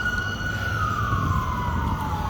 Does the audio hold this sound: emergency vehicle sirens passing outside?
yes